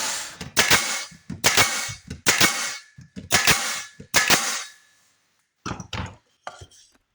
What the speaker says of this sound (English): I have a nail gun, so I'll be shooting some finished nails in